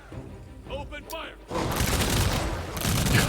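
Gunfire in the strategy video game Humankind: a sustained, loud crackling fusillade of volleys that starts abruptly partway through and keeps going, preceded by a brief voice.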